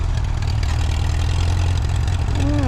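A Farmall M tractor engine runs at a steady, low, throbbing idle close by, with a brief rising whine near the end.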